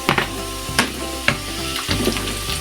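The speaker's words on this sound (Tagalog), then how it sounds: "Gisa siya hanggang sa madurog." Smoked fish (tinapa) sautéing in a pan for palabok, a steady close sizzle broken by several sharp scraping stirs of a spatula, with a low background hum and no talking.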